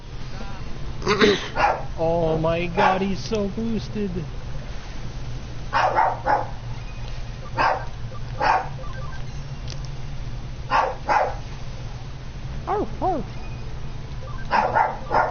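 A pet dog named Henry barks in sharp single yelps and short clusters, fairly close, with whimpering in between and a person talking over it.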